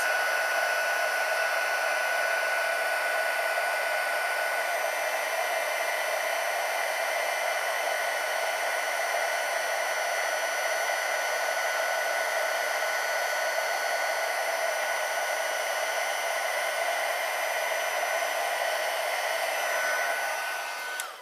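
A heat gun runs continuously for about twenty seconds while heating an embossed Christmas card, producing a steady, even airy whir like a hair dryer, close and constant until it cuts off at the end.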